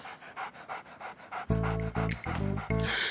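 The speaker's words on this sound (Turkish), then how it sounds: "Nereden çıktı bu köpek?" A dog pants rapidly and rhythmically up close, steady quick breaths at first, then louder harmonic whines or vocal sounds break in over the panting.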